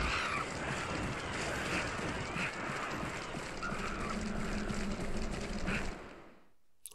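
A steady rush of wind roars continuously through a tunnel in Monster Hunter 4 Ultimate, broad and hollow, then drops away sharply near the end.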